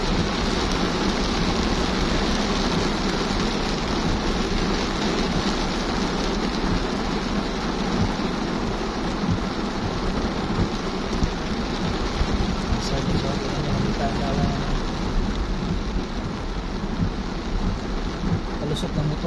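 Heavy rain pouring steadily, a dense, continuous broadband hiss and patter that stays loud and unbroken throughout, with no pauses or distinct drops standing out.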